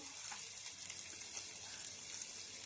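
Ginger sizzles steadily in a hot pan of oil, a soft continuous frying crackle with faint clinks, close and fairly quiet, with no talking.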